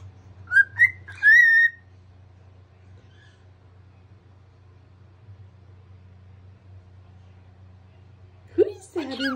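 A pet bird in front of a mirror gives a few short, bright whistled notes at the start, then near-quiet with a low background hum, and another brief burst of sound at the end.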